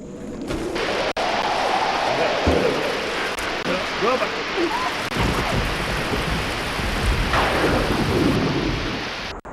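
Heavy rain pours down in a thunderstorm, dense and steady throughout, with loud thunder rumbling and cracking over it and a few sharper booms breaking through.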